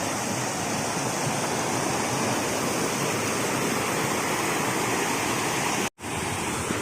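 Orappankettu waterfall at Peechi, Thrissur roars as a steady, dense rush of falling water, loud and continuous throughout with only a momentary dropout near the end.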